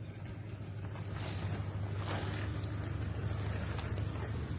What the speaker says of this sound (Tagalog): Nagising ako dahil sobrang ingay ng tent. Dahil super windy outside